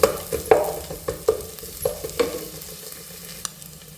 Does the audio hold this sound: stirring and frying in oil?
yes